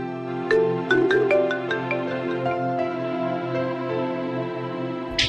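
A mobile phone rings indoors with a short synthesized ringtone melody of bright plucked notes, followed by sustained electronic tones over a steady low hum.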